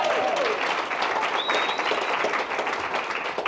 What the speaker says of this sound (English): let's give him a round of applause, Brodie Germain.